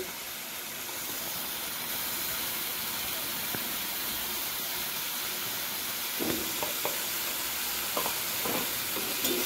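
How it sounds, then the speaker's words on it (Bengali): Cumin powder and Kashmiri chili powder masala are stir-fried in a pan with a continuous, even sizzle. A few sharper scrapes of the spoon come near the end. "এবারে সব মশলাগুলোকে একটু ভালো করে একসাথে কষিয়ে নেব।"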